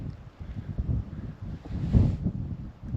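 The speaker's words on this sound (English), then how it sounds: "Listen to the wind." Wind blowing across open hillside in the Scottish Cairngorms, a low buffeting rush that swells and fades over a few seconds and partly hits the microphone, with no talking.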